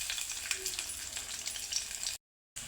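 Cumin, mustard seeds and garlic fry in hot oil with a steady, close crackling sizzle, broken by a brief silent gap near the end.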